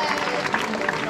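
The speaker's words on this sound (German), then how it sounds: "Großen Applaus!" Crowd applause at a sidecar-box race fills the short stretch, a dense wash of clapping with cheering voices mixed in, steady and fairly loud.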